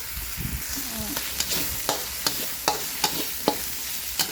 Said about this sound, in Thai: ผัดแต่น้ำมันหน่อยนึงนะ